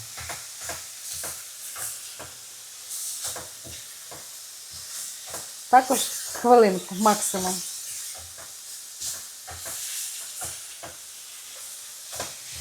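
Funchoza glass noodles stirred in a frying pan over high heat, a steady sizzle and hiss with scraping stir strokes bunching up in the middle, while a person talks briefly over it.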